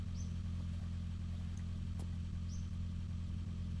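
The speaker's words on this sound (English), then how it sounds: "I love the noises this car makes." A low, steady Trabant car engine drone from a video game hums throughout at moderate volume, with a couple of faint chirps and a soft click above it.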